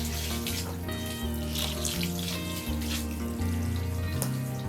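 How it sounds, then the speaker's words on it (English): Running water from a tap or watering can pours steadily into seed-starting soil for pepper seeds in a greenhouse, with soft music continuing underneath. "I'm just going to give it a good little watering"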